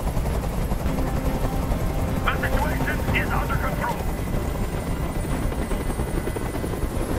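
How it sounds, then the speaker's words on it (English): A helicopter in the video game Detroit: Become Human thrums loud and constant throughout, its rotor chop filling the scene while someone speaks over it. "Tell that helicopter to get out of here!"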